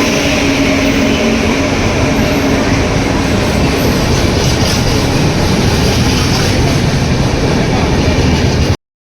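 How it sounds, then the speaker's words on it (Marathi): A train pulling into a station platform, a loud continuous rumble of railcars and rolling wheels with faint clatter that holds steady for about nine seconds, then stops abruptly. "आमची आली आहे ट्रेन."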